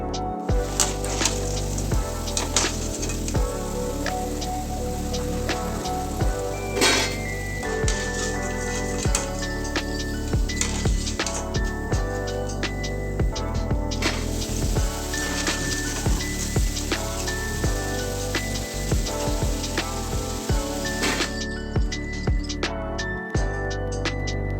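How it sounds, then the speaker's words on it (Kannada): Cauliflower pieces for dry gobi fry sizzle and crackle steadily in hot oil over a medium flame, a dense continuous bubbling hiss with scattered pops, close and moderately loud, with no voices. "ಅದಾದಮೇಲೆ ನಾವು ಮೀಡಿಯಮ್ ಫ್ಲೇಮ್ ಒಳಗಿಟ್ಟು ಇದನ್ನು ಗೋಲ್ಡನ್ ಕ್ರಿಸ್ಪಿಯಾಗಿ ಬರೋವರೆಗೂ ಇದನ್ನು ನಾವು ಚೆನ್ನಾಗಿ ಫ್ರೈ"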